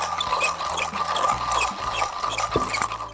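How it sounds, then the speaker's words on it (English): Coffee beans crunch and scrape inside a Comandante hand grinder set to 22 clicks for a medium-coarse grind, a close, continuous rasping with uneven gritty crackles as the crank turns. "Let's get grinding."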